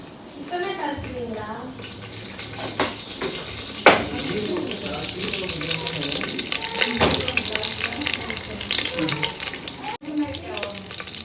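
Curry leaves hit hot oil and crackle in a busy, continuous sizzle with sharp pops, while a voice talks over the frying.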